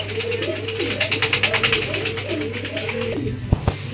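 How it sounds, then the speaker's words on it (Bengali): A pair of Copper Black Archangel pigeons coo in a rapid, pulsing run of close, moderately loud calls, ending with a couple of sharp knocks over a steady hum. "দর্শক এখানে দেখতে পাচ্ছেন একজোড়া কোপার ব্ল্যাক আর্টেঞ্জেল কবুতর"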